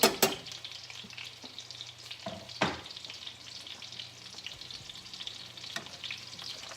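Chopped broccoli sizzles and fries in a pan, with a steady crackle, clacks of a utensil at the start and a few scrape-and-knock stirring sounds scattered through.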